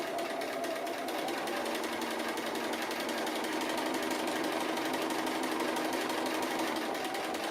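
A sewing machine stitches red ribbon appliqué in a sewing room, running steadily and close for the whole stretch with a rapid, even mechanical chatter and a constant whir, with no pauses and no talking.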